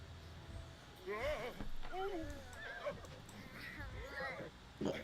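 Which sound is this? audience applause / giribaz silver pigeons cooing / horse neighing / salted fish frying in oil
horse neighing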